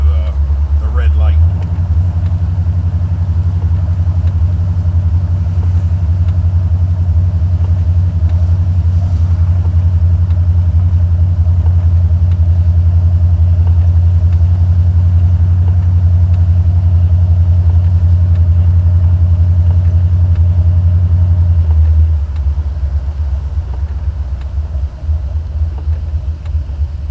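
Low, steady rumble of a Buick Regal T's 455 Stage-1 V8 cruising at about 2,000 RPM, heard from inside the car, a constant drone that fades down near the end.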